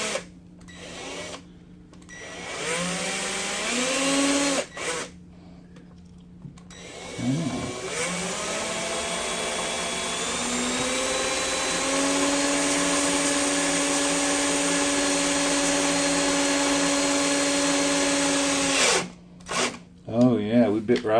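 A power drill running against sheetrock to drive a screw through it: a loud, sustained motor whine with pitch changes as it starts and settles, cutting off in short gaps near the start and end.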